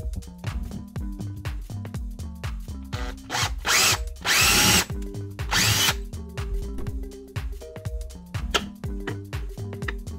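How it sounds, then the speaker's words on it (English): A power drill bores holes for track mount T-bolts in a DIY fish measuring board, with short repeated whirring bursts and a couple of longer, louder grinding runs through the material, close up. "time to drill out for the track mount T-bolts"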